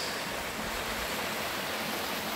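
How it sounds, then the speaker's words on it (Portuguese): Waterfall at Cachoeira dos Cristais in Biribiri, Minas Gerais, a steady broadband rush of falling water that fills the whole short stretch at an even level, with no voices. "Minas tem cachoeira."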